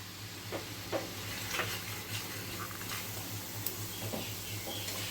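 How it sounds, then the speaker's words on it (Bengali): Cumin powder, red chilli powder and turmeric, wetted with a splash of water, stirred in hot oil for dhokar dalna; a soft, steady sizzle runs throughout with scattered scraping stir strokes and small ticks, fairly quiet and without talk. "এখন আমি তেলের মধ্যে মশলাগুলোকে ভালো করে কষিয়ে নেব"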